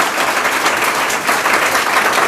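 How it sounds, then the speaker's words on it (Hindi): An audience claps for a teacher at a job-exam coaching event, giving steady, dense applause that carries evenly through the whole moment with no voices over it. "तो सर के लिए भी ताली बजाए"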